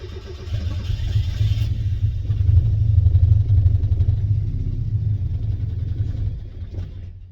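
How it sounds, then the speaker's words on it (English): A 200hp turbocharged Mazda Miata engine with a failing ECU runs roughly, a loud uneven low rumble that fluctuates and sags as it struggles to idle, then drops away near the end. "the car didn't want to idle or run"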